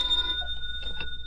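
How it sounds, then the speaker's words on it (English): Old-time radio drama telephone ringing effect: a bright, steady electric bell tone with a short burst of clattering near the end, heard alone with no voices over it. "when the phone rang."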